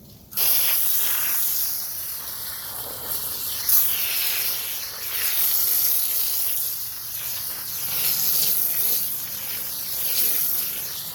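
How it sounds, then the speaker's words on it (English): A pump sprayer hisses in several long bursts close by, spraying kaolin clay on squash and zucchini plants, the misting sound swelling and easing with short pauses between. "I'm going to spray it one more time."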